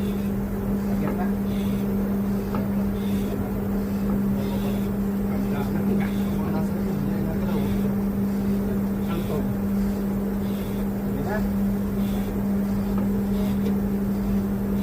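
A ship's emergency generator runs continuously during an offshore drill with a loud, steady mechanical drone and a strong low hum. Wind and crew voices speaking over it are heard faintly.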